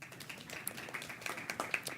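Scattered clapping from an audience at a Board of Education meeting, quiet and somewhat distant, a few uneven claps rather than full applause.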